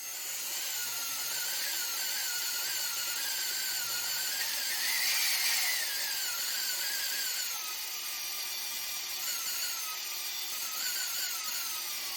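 Steady high whine of a power drill boring holes in square aluminum tubing, continuous and close for the whole stretch with slight shifts in pitch and no talk.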